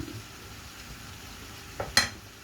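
Vegetables being stirred in a pan, a faint low sizzle with soft shuffling, then two sharp metallic clinks of a utensil against the pan near the end, no talk.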